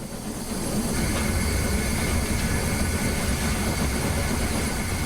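The Empire State Express 999 steam locomotive in Train Simulator, running on the Boston and Albany line with a fireman stoking, makes a loud, steady rumbling roar that holds without a break throughout.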